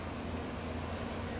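Tractor engine in Farming Simulator 17 with Seasons mod, roaring as a steady, dense low rumble that holds without pause throughout.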